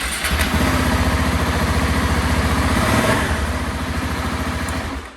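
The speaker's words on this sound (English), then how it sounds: "I'm more than happy with kind of the way the exhaust sounds right now." A KTM 690 SMCR single-cylinder motorcycle idles close by, its exhaust giving a steady, loud, evenly pulsing thump that holds throughout and eases off slightly near the end.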